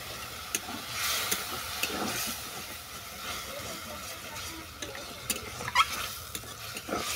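Ol saag greens cooked with a watery paste of poppy seeds and green chilies are stirred in a pan, giving soft, irregular scraping and sizzling with a few sharp utensil clicks.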